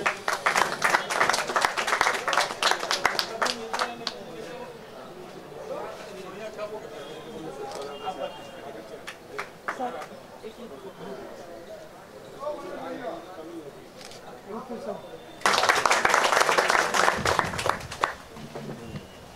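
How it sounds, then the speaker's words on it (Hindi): An audience at a Drivers Day celebration in India breaks into loud applause at the start, then a speaker talks over scattered sound before a second vigorous burst of clapping near the end. "जोरदार ताली बजाइए।"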